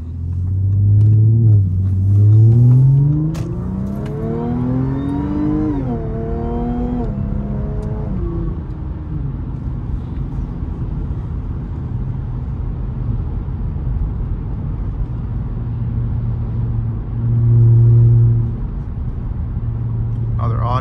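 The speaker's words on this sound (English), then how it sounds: "Maybe I could do a launch at the stop sign up ahead." An Audi A7 3.0 TFSI with an APR Stage 1 tune and cold air intake launches from a stop sign, its engine note climbing loudly through the revs before settling into a low, steady cruising rumble.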